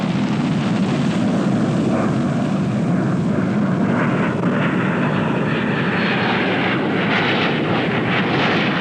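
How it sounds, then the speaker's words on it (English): An F-4 Phantom jet from a Blue Angels demonstration takes off at speed and pulls up into a steep climb, giving a loud, sustained, broadband jet roar that stays steady throughout with no voices. "accelerates his aircraft at 280 miles per hour, performing the very, very graceful Immelman on takeoff"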